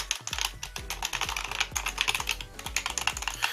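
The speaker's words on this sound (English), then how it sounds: "this keyboard is a lot cheaper than a mechanical keyboard, but you do get a nice mechanical keyboard feeling" Typing on a Masione MX half-mechanical wired gaming keyboard with brown-switch feel, a close, steady run of light clicky keystrokes with no voices.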